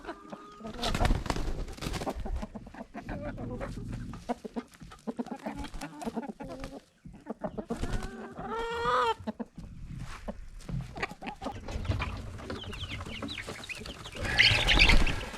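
Chickens cluck and squawk close by in a busy burst, mixed with other bird calls, rustling movement and occasional human voices.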